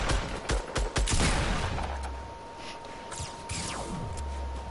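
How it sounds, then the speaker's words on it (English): Gunfire in Fortnite Battle Royale, a quick burst of several sharp shots close up at the start, then fainter scattered shots and a steady tone over the rest, with no talking. "He's shooting at me from top"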